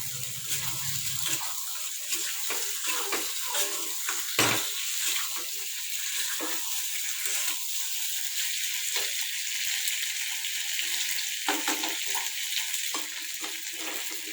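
Pointed gourd and potato pieces fry in a pan with a steady sizzle, broken by scraping and clinking as a utensil stirs them. One sharp knock stands out, and no one speaks.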